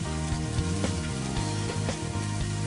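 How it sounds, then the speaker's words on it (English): Diced onions sautéing in a pan beside Parmigiano Reggiano, a soft steady sizzle and crackle running continuously at moderate volume under faint background music. "I'm going to add a generous cup of diced onions"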